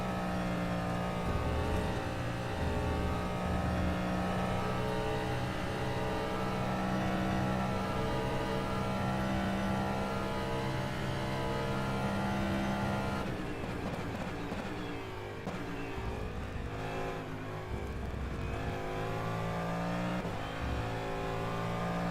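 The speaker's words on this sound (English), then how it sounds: "Yeah, hypercar sounds cool indeed." Racing engine of a DPi hypercar lapping Spa-Francorchamps in rFactor 2, holding high revs, dropping briefly on a downshift midway, then winding back up, loud and continuous.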